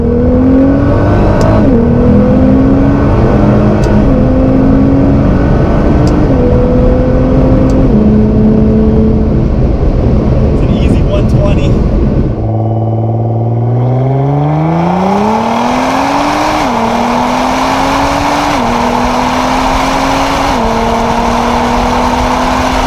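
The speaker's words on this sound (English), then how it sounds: "another run in the GT-R" A Nissan GT-R pulls hard through the gears on a run, its engine climbing and dropping with each shift, loud and close, then a fresh launch rising through several more shifts.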